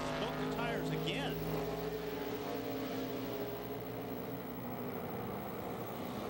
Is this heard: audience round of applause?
no